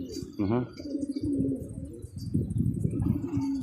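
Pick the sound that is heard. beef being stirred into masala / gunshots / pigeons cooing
pigeons cooing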